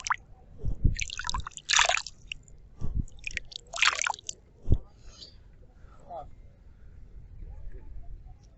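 A hand dips into the icy water of the Padma river, making a few short splashes and drips close by. A voice talks in between the splashes.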